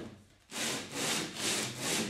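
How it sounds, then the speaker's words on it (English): Wood is hand-sanded with sandpaper held flat on a table, part of building protruding down-lights for a high ceiling: after a brief quiet, about four rough, rasping swipes follow in a steady rhythm, close and clear. "I'm just going to take the sanding paper, put it flat on the table"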